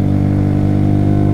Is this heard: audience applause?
no